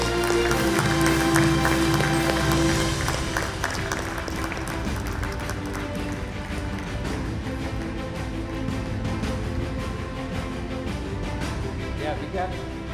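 Loud applause for award winners at a manufacturing excellence awards event, with dense clapping under music and a busy hall, continuing steadily throughout.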